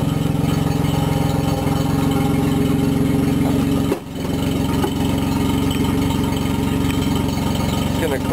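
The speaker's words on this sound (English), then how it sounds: "See, it's a pretty nice motor." A small motor on a homemade project vehicle runs steadily close by with a buzzing drone, dipping briefly midway before carrying on at the same pace.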